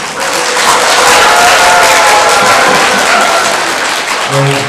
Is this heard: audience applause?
yes